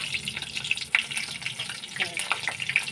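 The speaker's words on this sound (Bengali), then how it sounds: "লঙ্কাতে জল ছিল তো তাই একটু ফুটছে। ফোড়ন দিয়ে দিলাম।" Dried chilies and five-spice tempering crackle and sputter in hot oil, with a dense sizzle dotted with sharp pops.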